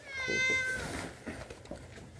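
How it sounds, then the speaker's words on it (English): Cat meowing indoors, a clear drawn-out meow early on followed by softer trailing calls over a low background. "The cat constantly meowing."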